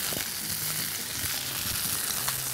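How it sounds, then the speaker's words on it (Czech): Broccoli florets fry in olive oil in a heated pan, giving a steady, close crackling sizzle throughout with faint stirring clicks and no talk. "Do rozehřáté pánvičky dám olivový olej a zbylé růžičky brokolice na olej opeču."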